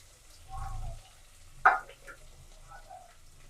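Onions, green chillies and curry leaves frying in a pan are stirred, giving a low soft scrape and a brief sharper clink of the spoon against the pan over a quiet sizzle.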